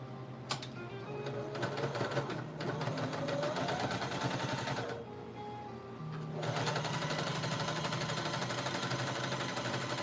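A sewing machine runs a straight stitch around a cloth doll, its needle chattering in fast, even bursts with a brief pause midway before resuming, close and steady.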